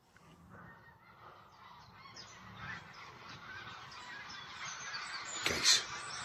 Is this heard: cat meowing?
no